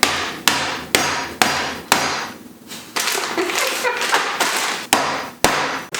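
Walnuts are smashed in a kitchen with repeated sharp, loud blows in an irregular rhythm, each strike followed by brief crunching and rattling of broken shell pieces.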